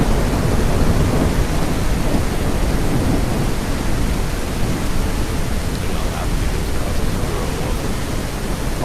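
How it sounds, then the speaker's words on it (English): Thunderstorm with rain in a video game: a loud, unbroken wash of heavy rain hiss with a deep rumbling underneath, steady throughout with no clear pauses. "Although you might get back-to-back thunderstorms."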